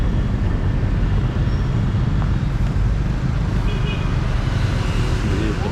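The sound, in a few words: traffic at a bus terminal in Ho Chi Minh City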